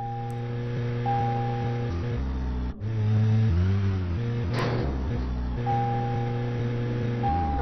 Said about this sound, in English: I like how the cars often sound like they have two engines.